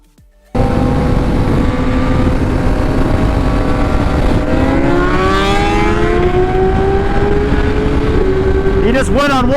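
A 2019 ZX10R, a 2010 ZX10R and a 2010 BMW S1000RR race at high speed on a roll, heard as loud, sustained engine roar with rising pitch as they accelerate, buffeted by heavy wind noise, with a brief voice.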